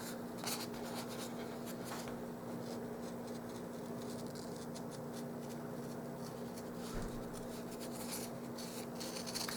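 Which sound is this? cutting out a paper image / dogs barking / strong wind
cutting out a paper image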